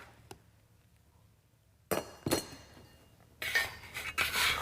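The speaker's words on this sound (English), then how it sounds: "My macaroni needs to be stirred." A spoon stirs macaroni in a boiling pot, scraping and clinking against the metal in a few short knocks, followed by busier rattling of pasta and utensil, close and alone.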